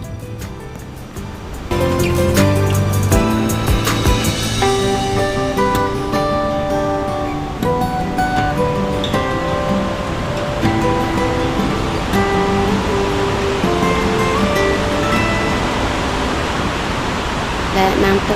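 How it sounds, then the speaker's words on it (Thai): The Kuang Si waterfall in Luang Prabang gives off a steady, loud broadband roar of rushing water that runs throughout, partly masked by music and a voice talking over it. "น้ำตกตาดกวางซีจุดนี้ก็เป็นจุดที่สูงที่สุดเนาะภายในตาดกวางซี"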